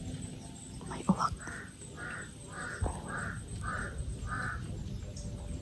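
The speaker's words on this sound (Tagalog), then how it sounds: "May uwak." A crow caws six times in a steady, evenly spaced series over a low outdoor forest rumble, with a couple of sharp knocks early on.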